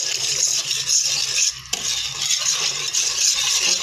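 Custard stirred in a pot with a spoon, a close, continuous bright scraping and swishing with a short pause midway and faint rattles of metal against the pot.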